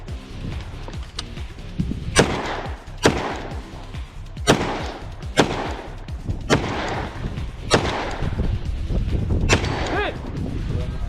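A series of about eight sharp gunshots from a carbine and pistol at targets during a ruck-and-gun two-gun biathlon competition, spaced roughly a second apart and ringing out over a rumbling outdoor background.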